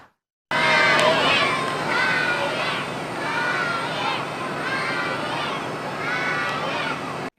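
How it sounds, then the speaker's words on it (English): Preschoolers at Venerini Academy cheer and shout together as a Worcester firefighter climbs a ladder, a loud, lively crowd of small children's voices rising and falling in waves throughout. "Preschoolers at Venerini Academy cheer on a firefighter as he climbs up a ladder"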